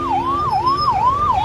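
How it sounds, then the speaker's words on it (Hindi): A traffic police vehicle's siren wails loudly and close by, rising and falling in a steady repeating cycle over low road noise. "यहाँ आप देख सकते हैं ये ट्रैफिक पुलिस की गाड़ी"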